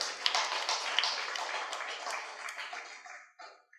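An audience claps loudly together, a dense burst of applause that begins at full strength and then thins and fades out over a few seconds.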